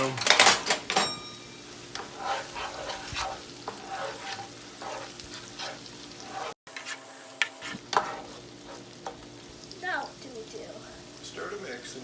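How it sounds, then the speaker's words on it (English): Ground beef and onions sizzle in a pan while a utensil scrapes and stirs through them in irregular strokes, with a voice talking over the steady frying. "Stir to mix and continue cooking until the ground beef is fully browned and the onions have softened."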